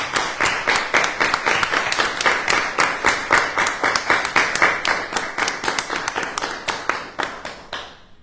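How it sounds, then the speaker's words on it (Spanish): A conference audience applauds in a hall: dense, steady clapping from many hands that keeps going for several seconds, loud and close, then thins out and fades toward the end, with no talking. "les pido un aplauso"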